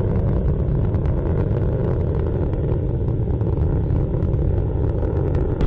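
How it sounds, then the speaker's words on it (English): Solid rocket motors thundering during the Phoenix Mars mission launch, a loud, continuous low roar with steady rumble and crackle, heard alone without voices. "Solid motors beginning to taper off."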